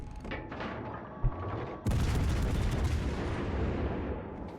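Heavy naval shells plunging through a warship's deck in World of Warships Legends, with a sharp thud followed by a sudden loud, sustained rumbling crash of impacts that slowly fades over several seconds.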